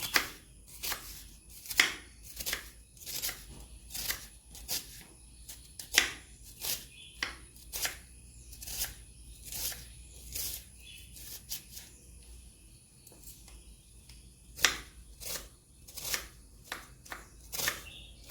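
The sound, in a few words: chopping onions finely with a knife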